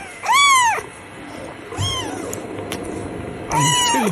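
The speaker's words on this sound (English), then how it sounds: "And 2 kittens by the sound of it now." Two kittens meowing in a cat meme clip: a loud, close meow at the start, a softer one midway and another loud meow at the end, over a faint steady background noise.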